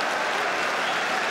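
A football stadium crowd applauds steadily during a match, a dense, even wash of clapping that holds at the same loud level throughout the brief moment.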